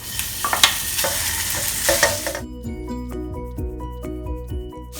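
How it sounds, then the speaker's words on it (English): Minced pork shoulder seasoned with salt and pepper fries in a pan, loud crackling sizzle and stirring scrapes at first, then quieter steady frying with rhythmic clinks of the utensil against the pan. "So let's fry the minced pork now."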